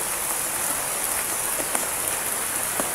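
Heavy rain pouring down outdoors, a dense, constant hiss of drops on surfaces, steady and loud throughout with occasional louder individual splashes.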